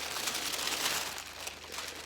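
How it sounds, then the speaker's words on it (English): Wax paper peeled back from beeswax-coated fabric during ironing, giving a soft, continuous crinkling and rustling close by, with a faint low hum underneath. "I'm going to pull back my wax paper."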